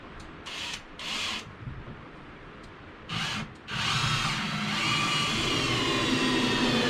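A power drill drives 3.5-inch number 10 screws into a wall stud while a shed workbench is built. The motor whines in short close bursts, then holds one long steady run as the screw seats.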